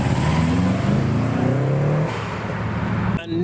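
A Renault Twingo pulls away from a Japanese car meet, its engine revving loud and close with rising pitch. The sound drops sharply near the end as the car moves off.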